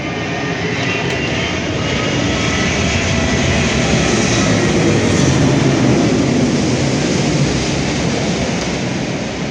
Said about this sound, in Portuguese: Vai descendo o avião, ouça a zoada que faz.